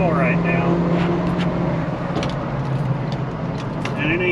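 A diesel truck with a failing high-pressure oil pump runs at full throttle, giving a rough, steady engine roar that holds throughout, close by under a faint voice.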